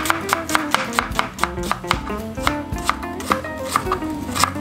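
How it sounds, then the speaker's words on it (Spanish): A knife chops an onion on a cutting board in quick, evenly spaced sharp taps, close and distinct, a dozen or more strikes in a steady rhythm, with faint background tones and no talking. "a picar esta cebolla para que así sean más grandes"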